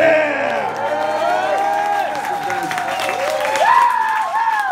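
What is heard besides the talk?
audience applauding at a live concert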